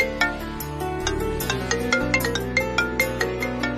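A phone ringtone for an incoming call plays alone, a bright repeating melodic jingle with rhythmic pulses, loud and close throughout.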